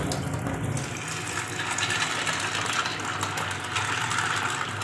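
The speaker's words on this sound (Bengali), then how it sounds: "এখানে কাজানাটাকে জল দিয়ে ভালো করে ধুয়ে ভিজতে দিয়ে দিই" Chickpeas being rinsed under running tap water in a home kitchen, a steady close gush of water pouring and splashing, continuous and fairly loud with a low hum beneath it.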